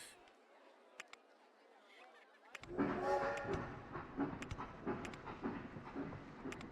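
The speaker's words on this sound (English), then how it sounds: "now the train is here." A roller coaster train in Rollercoaster Tycoon on Xbox arrives after a quiet stretch, bringing a steady rumbling rattle with clicks and clacks that continues to the end.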